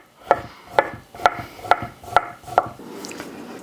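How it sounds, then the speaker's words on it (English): A knife dices leftover brisket on a cutting board in six evenly spaced, crisp chopping thuds, close and clear, followed by a brief soft scraping. "dice it down nice and small, because I want that brisket all the way through"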